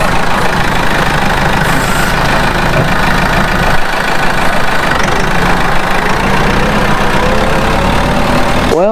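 A farm tractor engine running loudly and close, a constant rough rumbling idle that holds steady throughout.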